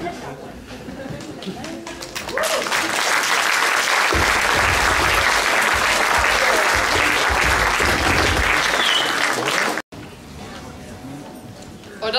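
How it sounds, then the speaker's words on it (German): Loud, dense applause from a concert audience for a dance group rises abruptly and holds steady for several seconds, then cuts off, with quieter sound before and after. "das gibt auf jeden Fall mal einen großen Applaus für die Tanzgruppe"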